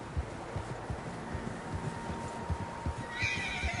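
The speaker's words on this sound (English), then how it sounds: "Horses, quite a few of them." Several horses neighing and whinnying in Red Dead Redemption 2, with clip-clop hoofbeats and soft rustling outdoors, fairly faint, a louder whinny rising near the end.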